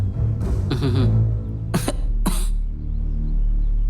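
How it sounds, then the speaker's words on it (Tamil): A few sharp, harsh coughs close by, coming in short bursts against a steady low background hum. "காலையிலேருந்து ஒரே இருமல்"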